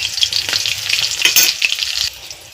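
Green chillies and black cumin seeds frying in hot oil in a home kitchen, a loud close sizzle with crackling pops and a few stirring scrapes before it eases off near the end.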